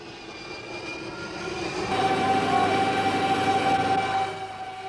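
Jump jet engine roaring steadily at a military airfield guarding Stanley, a broad rumbling whine that swells louder midway and holds before easing slightly, with no voices.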